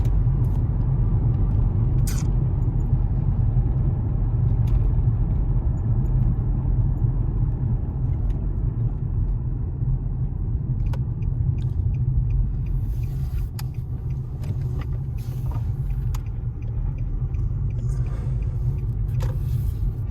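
A Nissan with every dash light on that will not move idles in a steady low engine rumble for the whole stretch, with faint clicks and small knocks over it and no speech.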